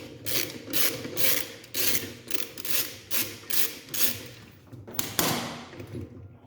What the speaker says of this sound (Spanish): Vamos a sacar todos estos tornillos.